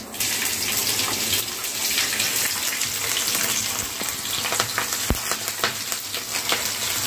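Mustard seeds, cumin and chillies sizzle in hot oil in a pan, a loud, continuous hissing fry with crackling pops and one sharp knock near the end, with no talking.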